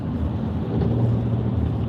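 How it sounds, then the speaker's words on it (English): Heavy, slow road traffic in Los Angeles, a steady low rumble of engines and tyres heard from inside a vehicle, continuous and moderately loud. "Man, traffic's bad."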